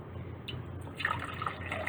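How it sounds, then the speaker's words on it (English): Water trickles and drips as it is poured into jars holding pipe cleaners, a faint, close, gentle liquid splashing. "after I pour the water in"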